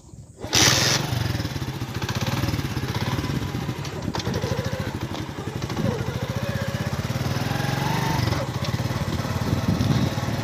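A motorcycle engine runs steadily and loudly up close, a continuous buzzing drone starting abruptly after a brief quiet moment and holding through, on a rural ride near Head Panjnad.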